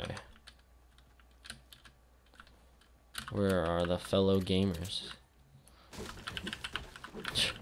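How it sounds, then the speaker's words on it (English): Expensive computer keyboard being typed on in quick light clicking bursts, faint and close, with a voice speaking loudly in between and a later flurry of keystrokes. "Hear that keyboard? Those luscious sounds?"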